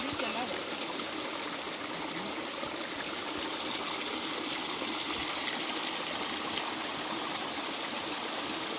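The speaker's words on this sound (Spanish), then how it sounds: "El ojo de agua aquí. Sí. De ahí sale de esas piedras." Spring water flows out from between rocks at a spring in Guerrero, making a steady, continuous close trickle and gush that runs without a break for the whole stretch.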